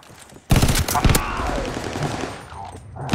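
Gunfire in Call of Duty: Vanguard multiplayer, a sudden loud burst of rapid automatic shots followed by echoing game effects and a fading tail.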